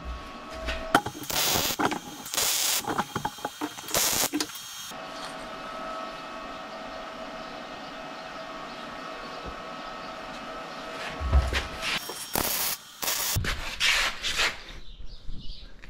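Tack welding a suspension mount on a mini crosskart, with short bursts of crackling, hissing welding noise separated by quieter stretches of shop hum, the bursts fairly loud and close.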